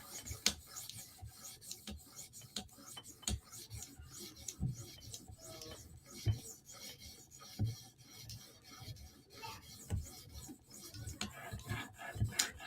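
A knife blade rasps against an 800 grit stone on a TSProf Kadet sharpener in quiet, close strokes, each pass a soft scraping rub repeated at a steady rhythm with brief pauses between, no voices.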